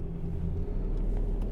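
A Mercedes W215/W220 car idling with a steady low engine rumble, running continuously close by with no clear separate shift events, no talking heard.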